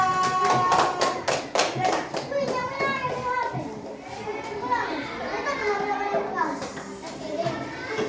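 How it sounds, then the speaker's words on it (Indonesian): Children in a classroom clap in quick bursts with sharp, distinct hand claps early on, mixed with lively kids' voices and chatter that carry on as the clapping fades. "Nah, beri tepuk tangan."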